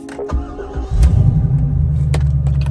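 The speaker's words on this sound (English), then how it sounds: "it's time to take this thing on a drive" C5 Corvette pulling away on a drive, a few clicks and a thump, then the engine's deep, close rumble rising and holding steady.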